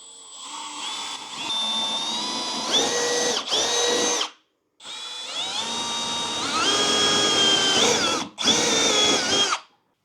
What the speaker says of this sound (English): If you run the drill in reverse, it'll help make a more accurate mark